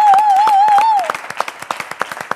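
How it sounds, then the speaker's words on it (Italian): Theatre audience applause on an Italian theatre show: it opens under a sustained, wavering tone, then continues as sparse, distinct claps at an uneven rhythm. "Quindi io vorrei un applauso per Francesco Scarano."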